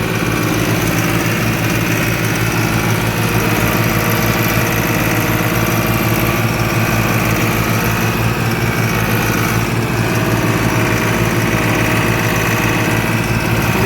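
A tractor engine idles and runs steadily throughout, loud and close with a constant rumbling pulse, while it pulls a loaded trolley out during rain.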